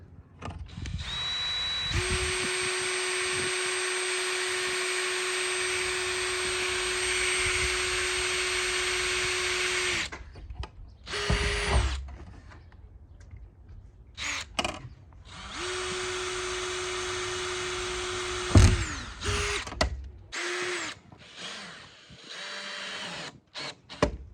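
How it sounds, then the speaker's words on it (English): A power drill boring holes into a van's bodywork, with two long steady whirring runs, each ending in sudden stops, and short bursts and clunks of handling between them. "I'll drill them first"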